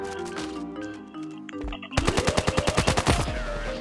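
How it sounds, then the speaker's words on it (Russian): Gunfire in the mobile shooter Standoff 2: an automatic weapon rattles off a rapid, evenly spaced string of loud shots, preceded by quieter game sounds and tonal effects. "Я префами стрелял."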